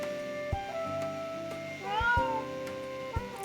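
A kitten meows several times in a game scene, clear and close, with short plaintive calls over quiet background music and faint clicks; no talking.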